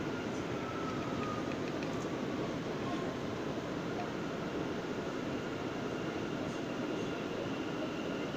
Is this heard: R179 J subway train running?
yes